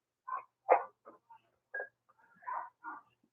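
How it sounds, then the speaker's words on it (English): A dog barks in the background in a short run of about seven sharp yaps, spaced irregularly across a few seconds and moderately faint, with no talking over it. "Do you guys hear the dog in the background?"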